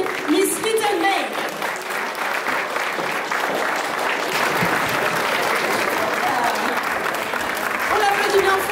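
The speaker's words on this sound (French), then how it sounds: "on peut l'applaudir bien fort" Sustained audience applause and cheering for a burlesque contestant at a 2021 Bletterans show, a dense steady roar of clapping throughout, with faint voices over it at the start and end.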